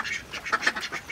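A duck set loose on a rooftop during rain quacks in a series of several close, loud, evenly spaced calls, with no talking.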